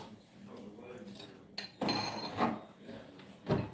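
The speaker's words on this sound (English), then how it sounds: "So let me get a microwave safe bowl." Dishes and kitchenware clink and clatter in a home kitchen as a microwave-safe bowl is fetched, with a few sharp knocks of a bowl against other dishes amid soft rummaging, fairly close.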